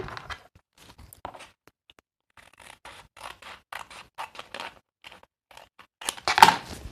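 Scissors cut a strip of paper for a journal page: a handful of short, close snips and scrapes, quiet at first, with the loudest cut near the end and no speech.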